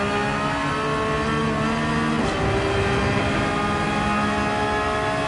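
A race car engine held at full throttle in Gran Turismo 7 at Watkins Glen gives a loud, sustained high-pitched whine with a quick gear shift partway through.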